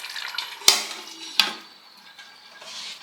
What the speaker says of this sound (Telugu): ఎసురులో ఇలా పైకి వచ్చేసినప్పుడు మొత్తం ఒకసారి ఇలా కలుపుకోవాలి.